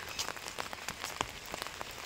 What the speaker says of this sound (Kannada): ನಿನ್ನೆ ಮಳೆ ಇರಲಿಲ್ಲ, ಇವತ್ತು ಮಳೆಯೊಟ್ಟಿಗೆ ಹೋಗ್ತಿದ್ದೇವೆ